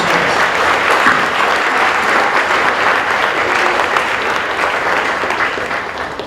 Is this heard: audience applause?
yes